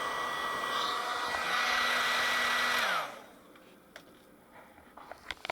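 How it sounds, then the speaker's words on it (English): Heat gun blowing hot air onto a sealed Volvo V50 headlight with a cracked lens: a steady, loud whooshing roar for about three seconds, then cut off, leaving quiet handling clicks and taps. "just gently heat it up with the heat gun and see if it comes apart"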